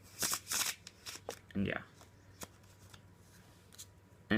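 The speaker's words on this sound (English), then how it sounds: "You're going to shuffle the deck, and whenever you're shuffling the deck, you want to make sure that the ace stays on bottom" A deck of playing cards shuffled for a card trick, with quick riffling bursts near the mic, a voice briefly speaking between shuffles.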